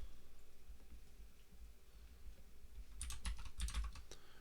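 A short flurry of quick keystrokes on a computer keyboard, faint at first and then a cluster of crisp clicks near the end, with no talking.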